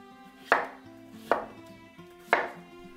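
Carrots and potatoes being chopped into chunks on a board, three evenly spaced sharp knife chops, close and clean with no voices.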